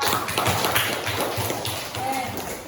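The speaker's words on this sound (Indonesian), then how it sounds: "Oke, sudah tepuk tangan dulu buat kelompok 2" Students in a classroom group-guidance session clap together for a group, a dense patter of hand claps lasting a couple of seconds, with faint voices mixed in.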